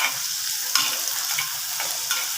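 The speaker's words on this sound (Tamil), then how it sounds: "வெங்காயம், தக்காளி, வெங்காயம், தக்காளி, வெள்ளைப்பூடு, பச்சை மிளகா ரெண்டுமே போடுறோம்." Onion, tomato, garlic and green chilli frying in a pan for a brinjal tamarind gravy, a dense continuous sizzle broken by a few scraping stirs, close and steady with no voices.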